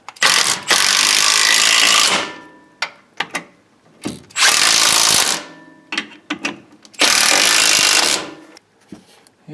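Ratchet tightening the steering box bolts on a 2000 Ford F250/F350 Super Duty 4x4, three loud rapid clicking bursts of about two seconds each, separated by brief quieter clicks and handling noises, close up.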